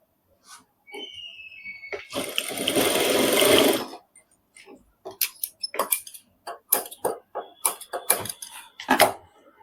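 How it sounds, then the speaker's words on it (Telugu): An electric sewing machine runs in one short burst of about two seconds, stitching the corners of a cloth mask, then gives way to scattered clicks and fabric handling. "ఫస్ట్ వచ్చేసి మనము కార్నర్ ఉన్నాయి కదా, ఇవి కుట్టేసుకోవాలి మనం ఇట్లా."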